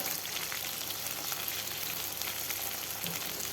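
Fish frying in a pan for a fish curry, a steady, moderately loud crackling sizzle with no talk.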